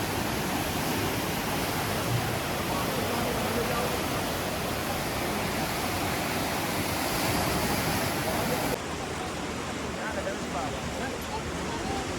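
Fast-flowing Bhagirathi river at the Devprayag confluence, a loud, dense, unbroken roar of rushing water heard up close, continuous from start to finish with a slight drop in level near the end.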